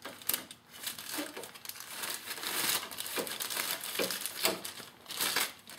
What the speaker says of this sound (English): Take the plastic bag off your high pressure line.